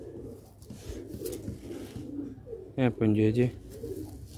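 Sialkoti black-faced pigeons, an old bred line, give a short burst of loud, close cooing near the end, a run of quick stacked pulses, with someone talking in Punjabi-Hindi before and around it.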